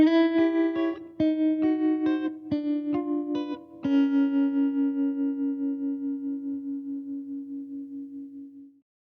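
Clean electric guitar notes plucked through a warm hand-wired Fender-style tube amp, several quick picked notes then a held chord ringing out and slowly fading.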